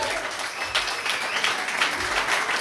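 Audience applause for the performer aboard a riverboat barge concert venue, a steady dense wash of clapping throughout with a few faint voices mixed in.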